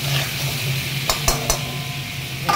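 Fish pieces with salt and turmeric fry on a high flame, giving a steady close sizzling hiss broken by a few sharp clinks of a utensil against the pan.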